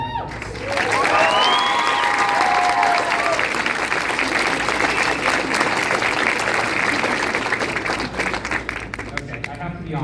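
A large audience applauds and cheers steadily for the whole stretch, with a few whoops early on, loud and dense throughout.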